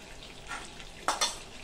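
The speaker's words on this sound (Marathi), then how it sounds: "आता याच्यामध्ये थोडासा हिंग घालायचा आहे, किंचितशी हळद" Asafoetida and turmeric sizzling in melted butter in a pan: a faint, soft hiss with two brief sharper scrapes or clinks of a spoon near the end.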